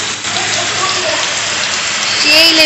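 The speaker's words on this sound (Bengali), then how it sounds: "এখন দেখো মুষলধারে বৃষ্টি হচ্ছে" Heavy monsoon downpour pours down close by at home, a dense, loud and continuous rush of rain with scattered splashing drops and a few faint tonal sounds near the end.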